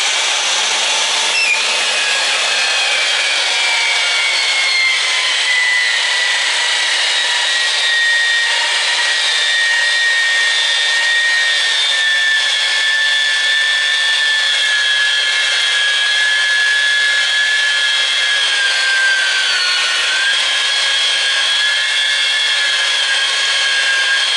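A machine cutting into a boiler pipe and making metal shavings, one loud continuous high whine with a slowly falling pitch, sustained and close throughout.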